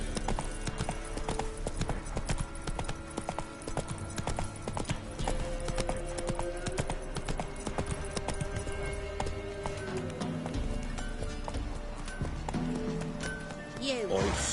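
Roach, a horse in The Witcher 3 video game, gallops with rapid, rhythmic hoof clip-clops that keep going throughout. The hoofbeats sit over game ambience and background music, with talk in the scene.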